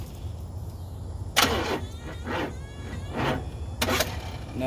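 A 1986 Oldsmobile Cutlass 442 with a weak, nearly dead battery tries to crank: a few short, strained starter bursts come close together over a low background rumble, and the engine never catches.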